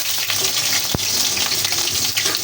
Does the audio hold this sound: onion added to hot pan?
yes